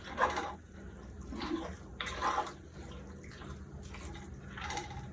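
Spoon stirring cheese through chili mac in a cast iron Dutch oven, soft repeated wet scraping strokes in bursts with small clinks, quiet and close.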